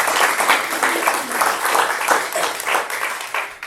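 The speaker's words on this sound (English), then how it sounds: "Let's please give them a round of applause." A church congregation gives a round of applause during Sunday announcements, a full, continuous patter of many hands clapping at steady loudness for several seconds with no talk over it.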